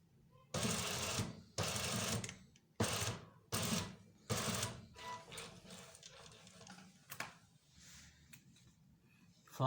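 A sewing machine runs in several bursts while stitching a fabric cuff flush along its edge, loud and near, followed by quieter handling and fabric noises.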